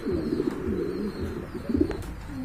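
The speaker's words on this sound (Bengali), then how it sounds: "এখানে কিন্তু এক জোড়া ফিলব্যাক কবুতর দেখতে পাচ্ছেন" A pair of fillback pigeons at a market stall coo in soft, low rolling murmurs, close by and repeated over a steady ambient hum.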